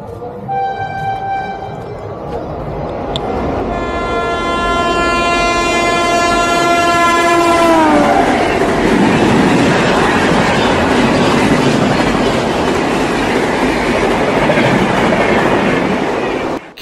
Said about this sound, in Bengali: ক্ষীরায়ের এই ট্রেন যাওয়ার দৃশ্যটা কিন্তু একটা আলাদা লেভেলের সৌন্দর্য এখানে দেখা যায়